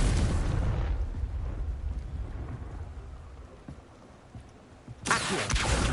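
A Confringo fire spell going off in the Hogwarts Legacy game, a loud booming blast that rumbles and decays into a crackling hiss before a second sharp burst near the end.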